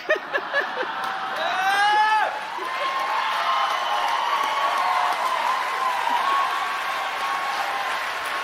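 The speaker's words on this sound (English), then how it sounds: "Everyone's happy and cheering" An audience bursts into sustained clapping and cheering, with rising whistles and whoops early on, then settles into a steady wash of applause and crowd noise.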